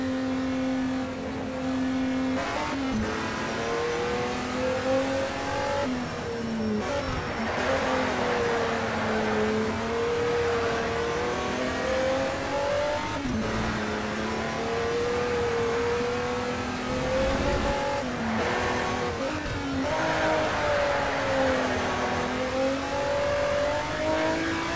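Ferrari race cars from Test Drive Ferrari Racing Legends lap the 1982 Hockenheimring GP circuit, engines droning and revving continuously, loud and close, with pitch rising and falling through gear changes for the whole stretch.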